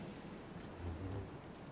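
A steady, soft hiss of rain falls evenly throughout in Lego Star Wars: The Skywalker Saga, with a low rumble underneath and no other distinct sounds.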